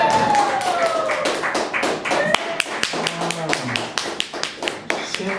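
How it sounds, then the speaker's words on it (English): Comedy club audience clapping on 53rd Street, a steady spatter of hands that thins into sparse, distinct claps toward the end, with voices talking over it. "Clap for me."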